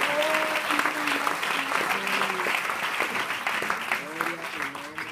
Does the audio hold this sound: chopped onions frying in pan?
no